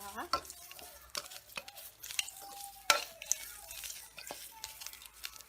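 Red and green chilies tossed with shallots dry-roast in a pan for a northeastern Thai chili paste, heard as a string of close, irregular scraping and clacking stirs over a faint crackle, with no voices.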